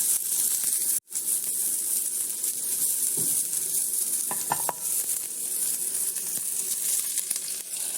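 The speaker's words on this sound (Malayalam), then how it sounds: "നമുക്ക് കടുകും ഉള്ളിയും മുളകും കറിവേപ്പിലൊക്കെ താളിച്ച് ചേർക്കാം" Mustard seeds, onion, chili and curry leaves sizzling in hot oil for a curry tempering, a steady close frying hiss with occasional stirring and popping.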